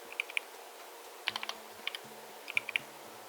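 Quick bursts of keystrokes on a computer keyboard as a name is entered, a few clustered taps, a pause, then another short run of clicks, close and crisp in an otherwise quiet room.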